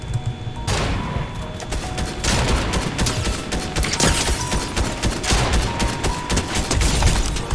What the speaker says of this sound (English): Shooting in Fortnite at 40 FPS.